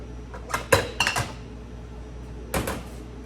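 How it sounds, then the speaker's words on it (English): Flourless chocolate cake batter being mixed by hand in a bowl, with a few sharp clinks and scrapes of a utensil against the dish in short clusters over quiet background. "I'm gonna mix the rest by hand."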